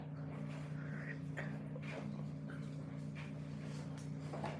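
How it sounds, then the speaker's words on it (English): A pet dog named Bumbles gives a few short whimpers and soft yips with some panting, close by and over a steady low hum. "Bumbles is a dog."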